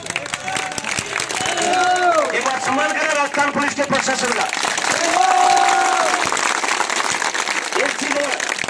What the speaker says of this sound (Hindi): सब ताली बजाइए।